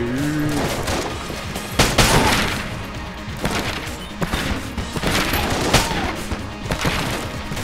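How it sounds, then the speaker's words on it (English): The skull gun firing in Enter the Gungeon gives repeated punchy shots at irregular intervals over busy game music and effects. The shots are loud and close, with bright impact sounds between them. "let's try this in the skull gun before"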